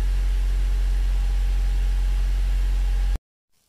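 A Honda engine idles just after starting, a loud steady low rumble close by that cuts off abruptly near the end, leaving silence.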